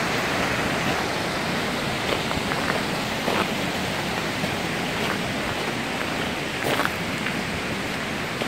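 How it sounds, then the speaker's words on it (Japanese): River stream near Toccoa Falls, a dense, steady rushing and babbling of water, loud and close, filling the whole stretch with faint splashes on top and no talking. "川のせせらぎっていうんですか"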